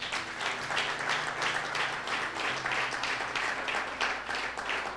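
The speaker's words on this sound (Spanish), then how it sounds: "¿Cuántos aplauden su nombre?" A church congregation claps together for about five seconds, with a dense, steady patter of many hands at an even, slightly rhythmic pace and no voices on top.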